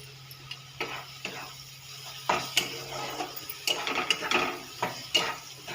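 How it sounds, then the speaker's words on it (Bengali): Chicken being stirred and sautéed in a pan, with intermittent scraping strokes of a utensil against the metal over a soft sizzle, fairly quiet and close, no talking. "ভালো করে জিনিসটা কষিয়ে নিই।"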